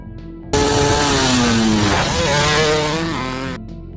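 A motorcycle roars through a film scene, a loud buzzing engine note that rises and falls as it revs, starting abruptly and cutting off after about three seconds.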